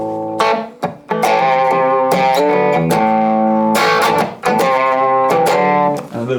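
Electric guitar played through a Boss Katana Air amp on the crunch channel, set with low gain and the master turned up: loud, sustained distorted chords ringing alone, with short breaks between strums.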